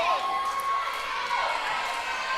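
A gym crowd cheering during a college volleyball match between Wisconsin-Eau Claire and Berry, a sustained roar of voices and shouts heard from a distance throughout.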